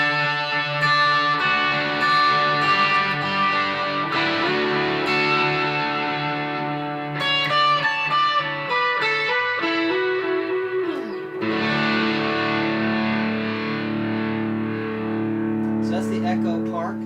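An electric guitar runs through an Echo Park delay pedal, with sustained distorted notes and chords ringing into echoing repeats, loud and close, as the pattern shifts partway through and a faint sweep appears near the end.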